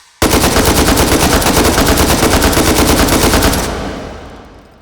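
Sustained full-auto burst from an AK pattern rifle in the VR shooter H3VR, a loud rapid stream of shots for over three seconds that stops abruptly and trails off, with no talking.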